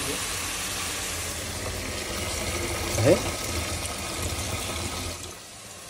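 Cold water is poured into a cooking pot for a soup, a steady hissing splash of running liquid that holds for several seconds and then tapers off, close by, with a brief word spoken over it.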